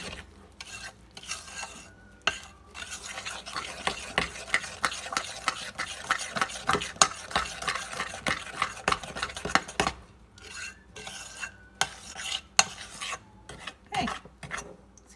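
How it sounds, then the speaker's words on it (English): Eggs being mixed into chocolate chip cookie batter in a bowl, a steady rasping, scraping stir with irregular clinks and bursts, close by with no talking. "go ahead and mix that together"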